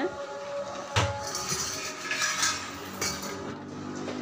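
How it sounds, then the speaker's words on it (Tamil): A ladle scrapes and knocks around a metal pot while sugar is stirred to dissolve for banana-leaf kesari, giving close, soft rhythmic clinks with a few sharper taps, no speech. "இந்த மாதிரி கரண்டி வச்சு கிண்டி விட்டுட்டே இருங்க"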